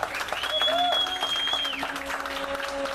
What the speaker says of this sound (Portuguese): Aplausos para a Rose, pessoal.